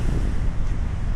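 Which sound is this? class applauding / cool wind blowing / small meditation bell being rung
cool wind blowing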